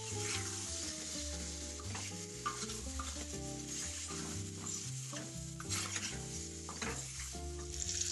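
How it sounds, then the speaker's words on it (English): Chicken karahi with garam masala and coriander powder sizzles steadily in a pan while a utensil stirs and scrapes through it, close and continuous, with a faint background hum and no speech. "And then again I will be stirring it"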